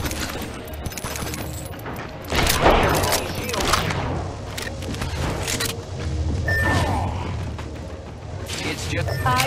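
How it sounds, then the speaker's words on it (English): Rapid gunfire and mechanical clatter fill an Apex Legends match, with bursts of shots, impacts and ability effects over constant game noise, while a character voice speaks through it. "I am taking fire, friends."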